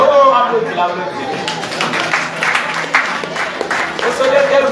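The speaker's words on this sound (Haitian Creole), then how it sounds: "Oh, applaudis, applaudis." Church congregation clapping together during a prayer service, a fairly loud, steady patter of many hands with voices speaking and singing over it throughout.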